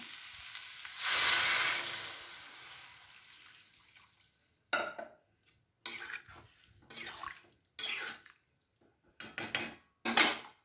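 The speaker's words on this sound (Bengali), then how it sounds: "এই পর্যায়ে আমি জল দিয়ে দেবো।" Mushrooms and onions sizzle loudly in a pan as water is poured in, a broad hiss that fades, followed by several short bursts of sizzling and clattering from stirring.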